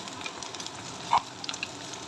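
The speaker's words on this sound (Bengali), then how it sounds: "এবার আদা রসুন একটু নাড়াচাড়া করে নেবো।" Ginger and garlic paste frying with onions in oil for a mutton kosha gives a steady, soft sizzle, close and alone, with one brief clink of stirring partway through.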